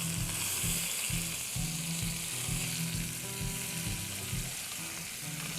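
Steady frying sizzle from morels cooking in a pan over a camp stove outdoors, continuous and close, with rhythmic scraping and clatter as the food is flipped.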